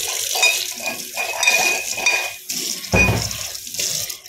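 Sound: rinsing the mortar with water and pouring it into the pot

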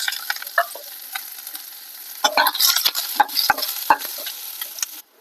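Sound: onion frying in pan

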